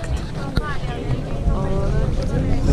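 A small motorboat carries passengers out from Paracas, its engine droning under wind buffeting and brief talk.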